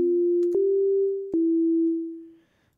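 A sustained sine wave synth tone from a wavetable synthesizer holds a steady, pure low pitch for about two seconds with two brief clicks along the way, then fades out smoothly into near silence.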